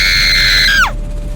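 A woman's shrill, sustained scream rings out at night on a foggy road, loud and close, holding steady before breaking and dropping off sharply.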